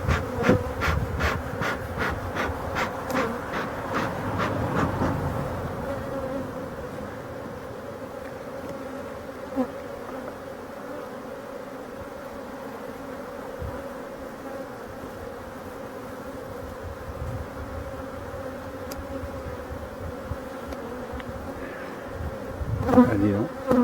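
Honeybees buzz steadily around beehives well filled with honey, a dense, continuous hum that fills the whole stretch, with a few faint clicks and knocks near the end.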